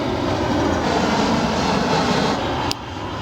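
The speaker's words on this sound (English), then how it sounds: "Huge plane flying over." A huge plane roars overhead near the largest air base in Canada, a loud, dense, steady engine rumble filling the whole clip, with a faint click and a slight drop in level near the end.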